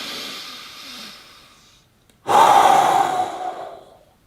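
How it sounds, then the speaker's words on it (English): A man breathes forcefully, one loud, drawn-out exhale following a softer breath, close up and alone with no talk. "Breathe forcefully."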